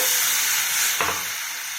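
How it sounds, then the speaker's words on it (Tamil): Crushed garlic, dried red chillies, green chillies and cumin sizzle and crackle in hot oil for rasam, a steady bright hiss with a brief louder burst partway through, close up and without talk. "பூண்டு, காஞ்ச மிளகாய், பச்சை மிளகாங்க இடித்து வச்சு மெழுகு சீரகம் போட்டு ஃப்ரை பண்ணிக்கலாங்க."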